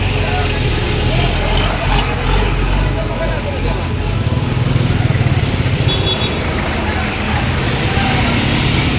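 A Selfie Paribahan bus creeps slowly along a congested mountain road, its engine a steady low rumble close by amid broad traffic noise and wind, with people talking underneath throughout.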